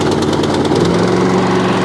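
A self-propelled lawnmower's small engine runs close and loud with a steady rapid chugging rumble, settling into an even idle after starting.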